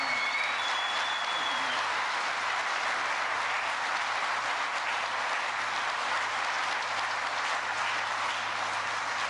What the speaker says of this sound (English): Give Don and the team here at Magna another round of applause, will you?